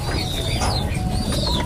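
A racing pigeon coos close by, a couple of soft, low calls over steady background noise, with no talking.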